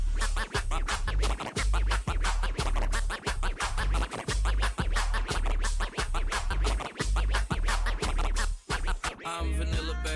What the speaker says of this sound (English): it's 3 chirp scratches followed by 2 baby scratches